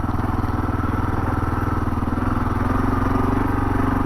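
A 2022 Kawasaki KLR 650 single-cylinder motorcycle runs steadily at cruising speed, its close, even engine thrum droning continuously with wind and road noise throughout.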